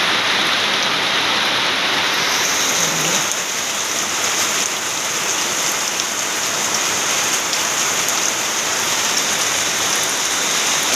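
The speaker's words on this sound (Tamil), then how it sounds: "கொஞ்சம் சுமாராக மழை பெய்யுது." Moderate summer rain falls steadily in the Kalakkad Thalaiyanai area, a dense, loud, continuous hiss of drops on surfaces with no voices and no break.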